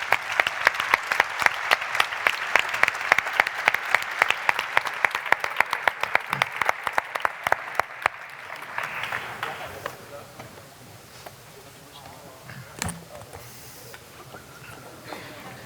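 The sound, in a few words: audience applause for the team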